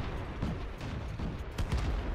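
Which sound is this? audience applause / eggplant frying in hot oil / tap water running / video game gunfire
video game gunfire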